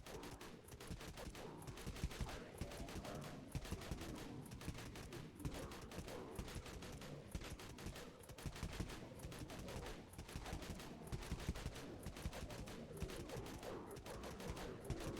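Dual Broncos guns fire in the online game Dead Frontier during a Wastelands fight: a steady, dense stream of rapid gunshots that never lets up, quiet and without speech.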